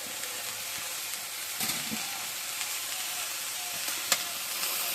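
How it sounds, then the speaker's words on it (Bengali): Food with turmeric and dried chili sizzles and fries steadily in a pan, with occasional light scrapes and clinks of stirring over the continuous hiss; no voices. "এখন আবার একটু নাড়াচাড়া দিয়ে নই।"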